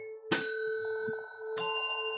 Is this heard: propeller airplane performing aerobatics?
no